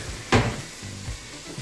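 Pork sizzles and fries in a pot, a soft steady hiss under a louder scrape of a spoon stirring near the start and a few lighter clinks after it, heard close up.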